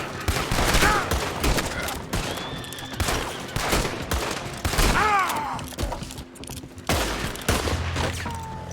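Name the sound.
gunfire in the video game Red Dead Redemption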